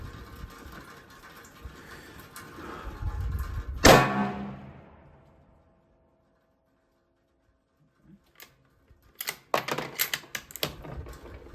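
Bergara B-14 Wilderness Sierra rifle bolt cycled: a loud, sharp metallic snap close by, a stretch of quiet, then a quick cluster of lighter clicks and clacks as the action is worked again.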